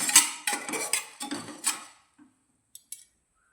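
Sorghum grains stirred and heating in a pressure cooker for home-popped sorghum, giving bursts of rattling, scraping grain against metal for about two seconds, then quiet with two faint clicks.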